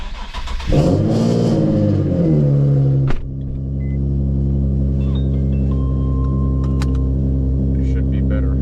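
An Infiniti G37 with a six-speed manual revs loudly and climbs in pitch, then drops off sharply at a gear change. After the shift the engine settles into a steady, loud drone, heard from inside the car.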